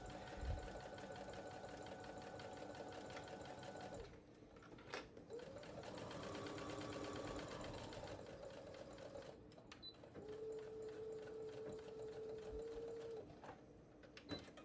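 A sewing machine runs steadily as a quarter-inch seam is stitched along one side of a fabric accessory case, whirring continuously with a couple of brief pauses and a pitch change toward the end.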